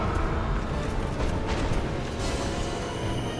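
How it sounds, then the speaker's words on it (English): An explosion in the video game Dark Souls, heard as a loud, dense roar of low rumble and crackle that lasts several seconds without any speech. "That looks like an explosion. Yeah, it is."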